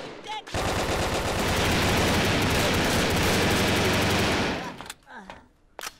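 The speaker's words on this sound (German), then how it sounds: "Ich höre die Schüsse, ich höre die Schüsse." Sustained burst of automatic gunfire in the video game Brick Force, loud and dense for about four seconds, then cutting off to quieter game sounds.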